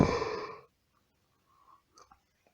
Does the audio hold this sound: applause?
no